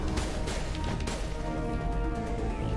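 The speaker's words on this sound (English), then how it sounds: "Just me meleeing everyone." Heavy melee blows land in the sci-fi shooter Mass Effect 1, a dense burst of crunching impacts over game music and ambience.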